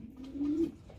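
Pigeons in a backyard loft give a single low, rolling coo that swells and fades over about a second, fairly close and soft, with no talking.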